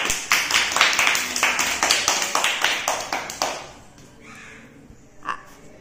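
First-grade schoolchildren in a Telugu classroom clap together in a quick, fairly even burst of about a dozen claps, then stop; a few faint scattered sounds and a brief voice follow.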